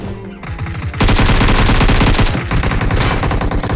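Automatic weapon fire in the mobile battle royale game BGMI, loud and close: a short burst, then sustained rapid rattling bursts that continue with brief gaps.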